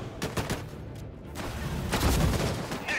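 Gunfire from units focusing fire in the video game Disintegration, dense bursts of rapid shots and booms rolling continuously over three seconds, loud and close.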